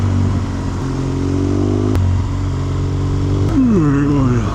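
A motorcycle on a touring ride toward the coast, its engine droning loud and steady with rising and falling pitch as it shifts, heard up close from the rider's position.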